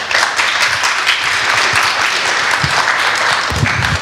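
An audience at a Liberland event breaks into loud, sustained applause, dense clapping filling the room continuously for the full stretch.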